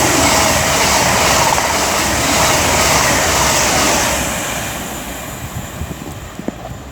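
Four-coach CrossCountry Super Voyager diesel multiple unit from Manchester Piccadilly to Bournemouth passing on the West Coast Main Line at Marston Green: a loud, close rush of rolling wheels and engine roar that fades away over the last few seconds.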